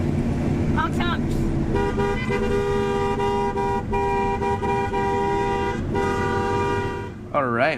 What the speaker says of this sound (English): Honks, honks.